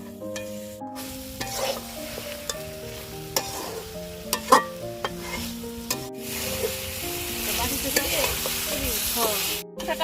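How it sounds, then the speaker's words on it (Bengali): Village-style country chicken curry with homemade spices sizzles in a pan, a continuous close crackle and hiss broken by repeated scraping and clinking of a stirring spoon, with no one speaking. "ভালো করে কষে নিছি এখন ঝোল দিয়ে দিব"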